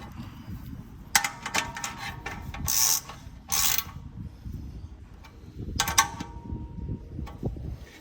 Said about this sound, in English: just nip those with your ratchet spanner